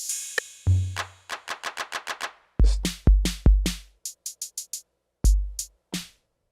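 The default kit of an AKAI MPC Live II drum synth plays a quick pattern of booming kicks and crisp, ticking hats and snares, dry and close, with a few pauses.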